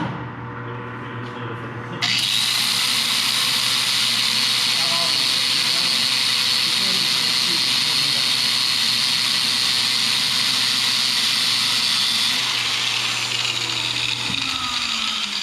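A power tool starts up abruptly and cuts into a C10 truck axle, a loud steady high-pitched grinding whine that holds for about twelve seconds before stopping, with voices around it.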